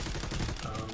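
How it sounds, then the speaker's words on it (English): Rapid doubled gunfire from a directive weapon in Planetside 2, a dense, loud burst of shots firing two bullets at once, crowding the whole second. "it fires like 2 bullets at a time"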